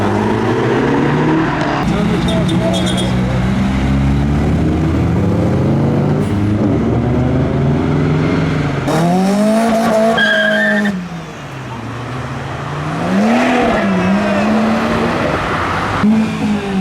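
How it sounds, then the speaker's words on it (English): Modified Mini at a car meet revving hard, its engine rising and falling in pitch through several sharp revs, loud and close, with tyre-squeal-like whine and crowd noise around it. "For the Mini giving off revs."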